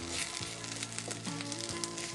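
Pumpkin pieces fry in a pan with a steady, dense sizzle that fills the whole moment, close and even, with a few soft shifts as the pieces settle in the hot oil.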